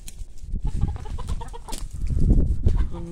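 Farmyard chickens cluck busily and steadily close by, a rooster-like call rising among them, with no talk over the hens.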